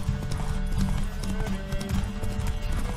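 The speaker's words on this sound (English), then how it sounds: "Okay, we're going to race this horse." Hooves clip-clop steadily as a horse gallops in The Witcher 3, a continuous rhythmic pounding mixed with game sound and a faint whinny, close and fairly loud throughout.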